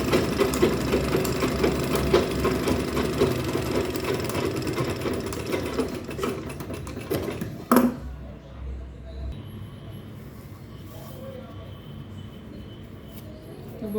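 Sewing machine stitching a fabric travel bag, a steady rapid mechanical whirring and clatter running close for several seconds before stopping abruptly, leaving a quieter room with faint background voice.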